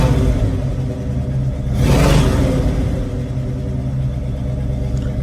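A 1978 Pontiac Trans Am engine rumbles loud and close, swelling in a brief rev before settling back into a steady idle, with no voices over it.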